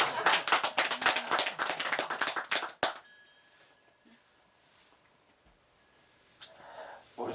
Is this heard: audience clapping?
yes